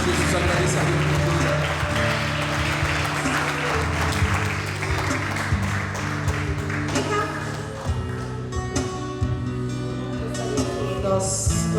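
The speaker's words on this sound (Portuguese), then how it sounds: "Que as palmas louvam e agradeçam o nome do Senhor nesta noite." A church congregation claps in praise during an evening service, the clapping running under loud music and a voice over a PA.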